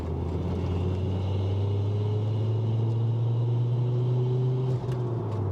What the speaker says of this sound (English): I'm gonna try and get the noise, which sounds like turbo spool to me.